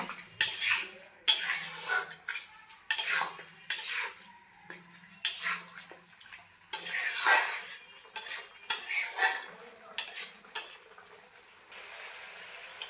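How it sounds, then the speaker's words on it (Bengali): Jackfruit cooked down with spices and salt in a pan, stirred with a metal utensil that scrapes and clinks against the pan in repeated bursts, close and fairly loud, with short pauses between strokes and no talking. "দিয়ে দিচ্ছি পরিমাণ মতো লবণ এইভাবে একটু কষিয়ে নেব ভালো করে"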